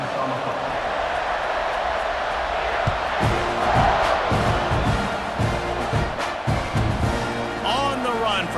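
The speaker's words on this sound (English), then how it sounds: "They're set to kick it off, and this crowd now ready to get behind them" A football stadium crowd roars and cheers at kickoff, a dense sustained wall of voices with a play-by-play announcer talking over it.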